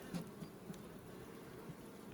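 Honey bees buzzing around hive frames during spring splits and rapeseed honey harvest, a soft continuous low hum with a few nearer passes, faint and steady with no talking.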